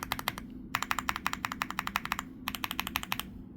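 Fingers type on an EPOMAKER Hi75 keyboard, producing close, crisp clacking in three rapid bursts separated by brief pauses, with no talking.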